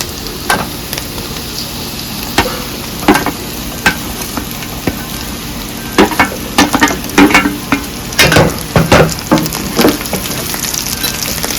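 Bitter gourd pieces fry with curry leaves and onion chilli masala in a pan, giving a constant loud sizzle punctuated by sharp spatula scrapes and clanks that grow busier toward the end, close up and without talk.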